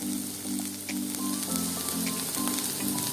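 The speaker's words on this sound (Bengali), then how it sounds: "এবার সবজিগুলোতে হালকা লবণ দিয়ে কিছুক্ষণ নাড়াচাড়া করে নেব" Lightly salted vegetables frying in a pan while being stirred, with a continuous close sizzle, a faint steady hum underneath and a few soft scrapes.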